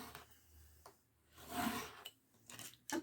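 Card stock being cut by hand for a handmade Christmas Advent card, a few close, dry rasping cuts and scrapes with short pauses between them.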